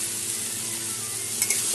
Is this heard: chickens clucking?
no